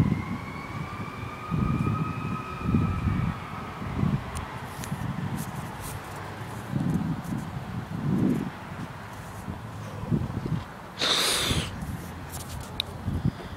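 A fire engine siren wails in the distance at a car crash scene on Route 9W, a faint rising tone under muffled bystander voices and background noise, with a brief louder burst near the end.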